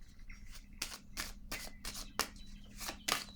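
Tarot cards shuffled by hand in a quiet room, a run of crisp riffling bursts, about eight in a loose rhythm, close and fairly soft, with no talking.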